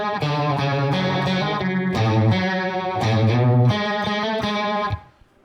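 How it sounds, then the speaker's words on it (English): An electric guitar runs through a phaser pedal set all the way up, strummed chords swirling and sweeping in a steady rhythm for about five seconds before cutting off, with no talking. "Just a phaser just all the way up."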